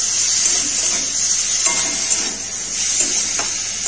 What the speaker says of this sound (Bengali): চিংড়ি মাছগুলোকে ভেজে নেব।